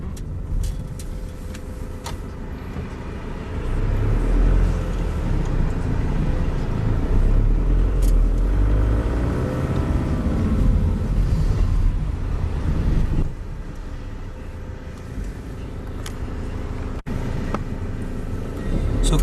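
Cars drive fast along wide Great Western Road, building into a loud, sustained rush of passing traffic before easing back, with wind buffeting the microphone.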